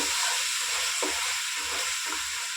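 Tomato paste from three tomatoes fries in a pan, a dense continuous sizzle broken by regular scraping stir strokes, with no talking.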